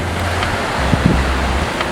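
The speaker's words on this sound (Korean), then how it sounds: "저 낚싯배 봐도 파도가 얼마나 심한지 알 수 있거든요" Rough sea waves crash on the Jeju coast as a constant, loud rushing wash with wind buffeting and a few low thumps near the middle.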